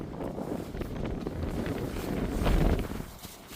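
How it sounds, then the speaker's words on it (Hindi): Strong wind blows in a rural Indian tiger-habitat area, buffeting the microphone with heavy low rumbling gusts that swell and peak midway before easing slightly, loud and continuous. "इतनी तेज हवा चल रही है,"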